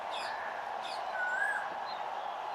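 A few thin, high bird chirps sound faintly over a steady background hum at an outdoor cricket match venue in Chennai.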